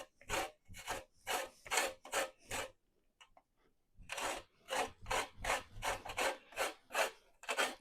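Fresh lemon being rubbed against a zester or grater for a blueberry banana bread, a close, rhythmic series of dry rasping strokes, about five, a brief pause, then about eight more in steady succession.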